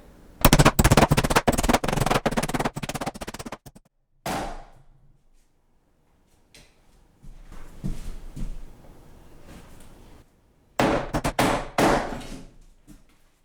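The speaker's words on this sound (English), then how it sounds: "Screwed and nailed." Hammering on a wooden header being fastened into a load-bearing wall, with loud rapid bursts of close, sharp strikes at the start and again near the end, and a quieter stretch of knocks and handling between them.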